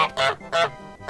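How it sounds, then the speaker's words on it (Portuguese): Three loud, nasal goose honks from a video game in quick succession, close and harsh, each a short blaring squawk with brief gaps between. "Nossa, meu grasnado é completamente torto"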